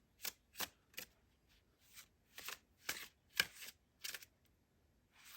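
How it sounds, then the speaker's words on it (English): Oracle cards shuffled and drawn from a deck: a string of about ten crisp, papery riffling bursts, close and fairly quiet, with brief pauses between them and no talking. "we choose some oracle cards"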